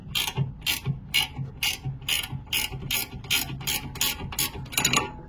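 A flat 15 mm wrench ratcheting a screw loose, giving a quick, even run of about a dozen sharp metallic clicks close up, with no talk.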